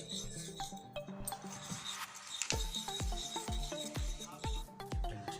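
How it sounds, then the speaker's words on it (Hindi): A homemade skin pack is stirred in a bowl, heard as rapid scraping and rubbing strokes of a spoon with small clinks, close and quiet, with no talk. "इसे पहले हम अच्छे से मिक्स करेंगे।"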